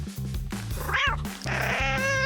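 Several meows from cats, a couple of drawn-out, whiny calls over a low rhythmic musical backing.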